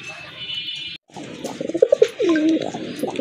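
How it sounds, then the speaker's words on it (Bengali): A white native Rajgolla pigeon coos in low, soft, rounded calls, partly overlapped by nearby talking and other faint bird sounds. "এটা হচ্ছে অরিজিনাল রাজগোল্লা কবুতর, অরিজিনাল দেশি কবুতর, হোয়াইট কালার"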